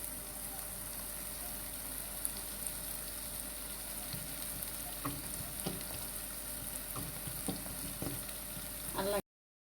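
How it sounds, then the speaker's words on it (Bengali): Pasta ingredients frying in a home kitchen pan for Eid special pasta, a steady close sizzle with occasional stirring scrapes and clinks throughout, no talking. "আমি একটু ভেজে নিচ্ছি খুব সুন্দর করে হাতের সাহায্যে"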